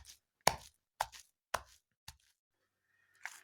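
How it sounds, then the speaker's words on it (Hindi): Sharp, separate knife or cleaver strikes on a board as raw chicken is smashed and minced finely for koftas, about five close thuds with short pauses and no talk. "और छोटे छोटे पीसेस इसको ऐड करते जाएंगे और इसको स्मैश करते जाएंगे।"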